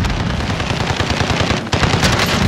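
Shotgun fire in a video game booms loudly and repeatedly in quick succession, dense bursts of gunfire filling the whole stretch with only a brief lull.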